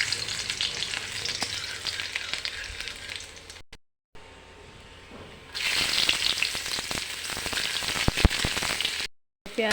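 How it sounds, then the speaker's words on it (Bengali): Chopped onion and garlic fry in hot oil in a pan, a loud dense sizzle with stirring scrapes that briefly drops away and returns stronger, close and without talk. "পেঁয়াজ আর রসুনটা একটু সুন্দর করে ভেজে নিয়ে তারপরে কাঁচা লঙ্কা দিতে হবে।"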